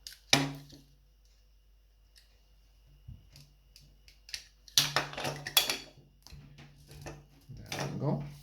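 Snipping and clicking of scissors or cutters through the outer jacket of an RCA cable, several sharp cuts and small handling clicks close by, with bursts of activity near the end.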